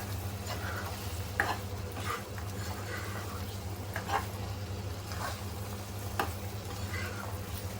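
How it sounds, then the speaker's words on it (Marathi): Eggs being stirred into a simmering spinach gravy in a pan for egg spinach curry: a steady low sizzle under intermittent scraping spoon strokes, moderately close, with no talk. "ग्रेव्हीमध्ये मिक्स करायचे आहेत अंडी"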